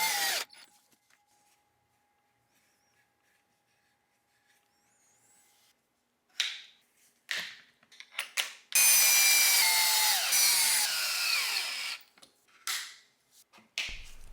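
A power drill drives screws into a wooden plantation shutter frame near a mitered corner: short whirring bursts, then a longer sustained run with a pitch that shifts, and a few brief follow-up bursts, all close and loud with no talking.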